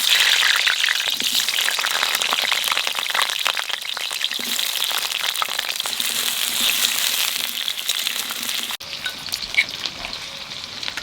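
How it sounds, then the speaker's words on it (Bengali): Potatoes fry in hot oil in a pan as the first step of a mutton curry, giving a steady, close, loud sizzle with occasional stirring crackles throughout. "মাংস রান্নার জানিতি প্রথমে আলুটা ভাজিয়ে নেব"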